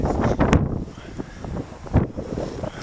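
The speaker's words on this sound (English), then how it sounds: "You can see the wind hasn't quit quite yet." Steady wind buffets the microphone outdoors on a snowy morning after a blizzard, a continuous broadband rush with a couple of louder gusts, with no voices.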